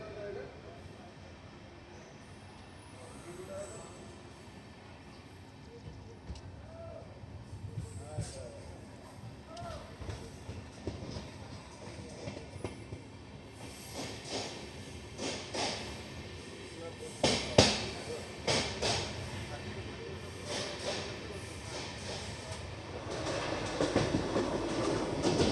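The Maharashtra Express with LHB coaches rolls along the rails, with rhythmic wheel clatter and rumble that grows louder and busier toward the end while a voice talks faintly underneath.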